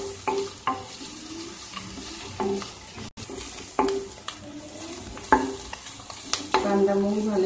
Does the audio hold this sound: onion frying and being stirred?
yes